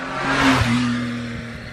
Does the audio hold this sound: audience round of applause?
no